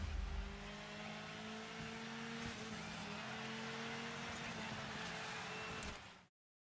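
A Skoda Fabia rally car engine in the Dirt 5 racing game drones steadily at a sustained high rev, with faint tire noise, before cutting off abruptly at the end.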